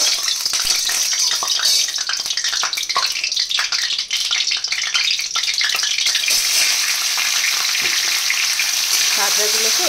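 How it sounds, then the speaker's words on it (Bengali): Crabs frying in hot oil in a wok, a loud dense crackling sizzle that stays steady and close throughout, with faint stirring movements near the end. "ভেজে নেব কাঁকড়াগুলোকে"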